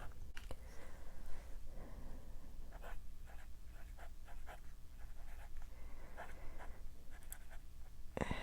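Writing in a Hobonichi Weeks planner with a medium nib fountain pen: faint, close scratchy strokes in short irregular bursts over a low background hum, no speech.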